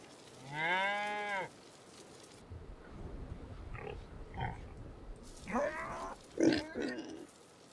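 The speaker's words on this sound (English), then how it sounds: "Those pigs do sound pretty cute." Farm animals in the Farming Simulator 25 video game: a loud drawn-out cow moo, then quieter grunts and snorts from pigs, with a couple of louder grunting bursts near the end.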